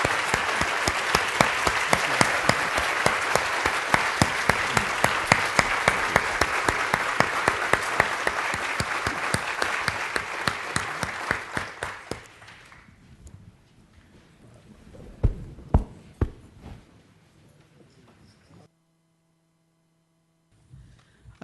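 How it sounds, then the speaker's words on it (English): A large audience at an anniversary panel event applauds steadily for about twelve seconds, a dense close wash of clapping that thins into scattered claps and fades to near silence. "a round of applause?"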